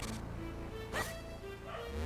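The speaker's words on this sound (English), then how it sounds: "You might be hearing my little puppy" A small puppy gives a few short, high yips and whimpering barks close by, over background video game music and tones, with no speech.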